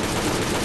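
An exploder enemy bursting apart in the survival game Last Day On Earth, a loud, dense blast of crackling noise that fills the brief moment without a pause and with no voices over it.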